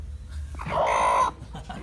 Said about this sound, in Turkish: Burada bakın bir tane yumurtlayan tavuk var